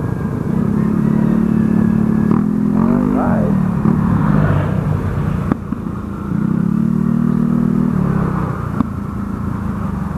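Yamaha NMAX scooter at a rider meet-up, a steady engine drone with a brief rise in revs, close and loud, with crowd voices in the background.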